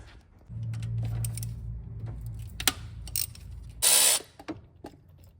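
A ratchet removing 13 mm bolts from the engine of a 2004 Land Rover Discovery 2 during head gasket repair, rapid clicking bursts with metallic clinks, near and without talk.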